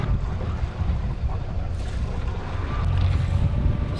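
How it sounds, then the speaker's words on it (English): A sailboat's engine runs while the anchor is being hauled up, giving a continuous low rumble mixed with wind and water wash, getting slightly louder toward the end. "As soon as the engine comes on and we start moving, Ellie's like, what's happening?"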